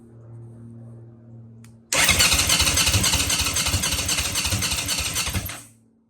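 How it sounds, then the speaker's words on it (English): A Honda CB750 motorcycle engine cranks over loudly on the starter after a quiet moment, a steady rapid churning that runs for several seconds and then stops abruptly without catching. "you should be able to see here when I turn the bike over that there is a small spark going between the electrode"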